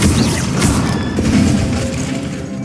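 A burst of fire from an Incendio spell in Hogwarts Legacy, a loud, dense whooshing boom with crackling impacts that rolls on for a few seconds without any speech.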